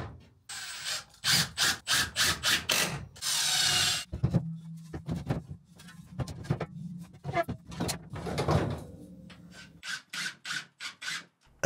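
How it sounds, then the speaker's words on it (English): Wood being notched to fit inside shed studs, with a run of sharp rhythmic rasping strokes, bursts of grinding cutting, and pauses between, close and moderately loud. "I need to notch out the back so that I can fit it to the inside of these studs."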